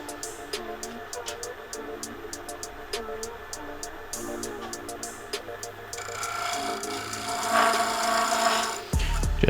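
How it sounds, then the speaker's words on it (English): Skew chisel taking light cuts on a red ironbark bowl spinning on a lathe, with a steady close scraping and rubbing that grows rougher and louder toward the end. "I'll bring the skew in and sharpen up that corner"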